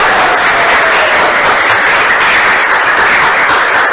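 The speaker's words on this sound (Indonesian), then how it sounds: "Tepuk tangan untuk kita semuanya." Children in a classroom clap together at the end of a lesson, a loud, dense and continuous patter of many hands that stays close and constant throughout without a break.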